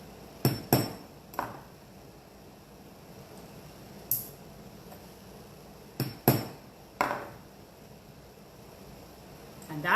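Hammer striking a rivet in a cold-connection metalwork join: a handful of sharp, ringing metallic taps, some in quick pairs, spaced irregularly over a quiet room background.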